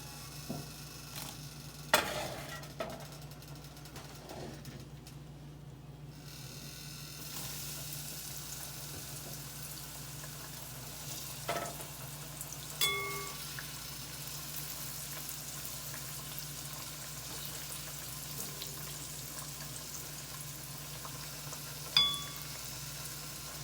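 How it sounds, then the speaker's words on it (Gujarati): Homemade McDonald's-style french fries frying in a shallow layer of cornstarch-laced oil give a steady, close sizzle throughout, with a few faint utensil clinks and taps now and then. "હવે આ ફ્રાય તળાઈને તૈયાર થઈ ગઈ છે"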